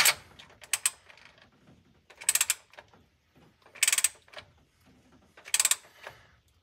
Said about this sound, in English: And this is going to get torqued to 45 foot-pounds.